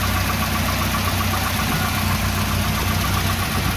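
A 1988 Volvo 240 DL engine idles steadily, a continuous low rumble with a faint knocking texture, close and even throughout with no voices.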